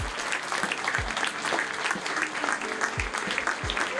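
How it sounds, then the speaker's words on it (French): Audience applause welcoming a guest at the Premiers Plans film festival in 2023, a steady, dense clapping that holds evenly for the full stretch, with a few low thumps and no talk over it. "applaudissements."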